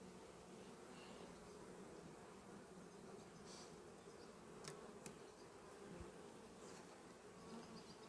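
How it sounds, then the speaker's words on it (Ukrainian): A steady, dense hum of many honeybees buzzing close by in an open hive during an autumn inspection, continuous throughout with a few faint clicks and knocks. "Але бджоли спокійні, вона десь повинна має бути."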